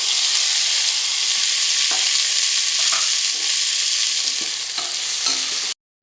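Loud, continuous sizzling of onions and tomatoes frying in a hot pan, with occasional stirring scrapes, before cutting off abruptly near the end.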